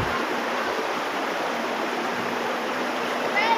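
River water running steadily over rocks around a boulder in the middle of a forked, Y-shaped river, a continuous broadband rush heard close up from start to finish.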